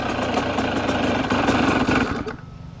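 A Yamaha YZ85 dirt bike engine running rich chugs unevenly at idle, a loud close rough rumble that falters and drops away near the end as it struggles to keep running.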